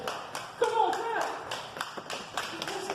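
A church congregation claps along in worship, sharp hand claps repeating at a steady rhythm over singing and chanting voices, fairly close and lively.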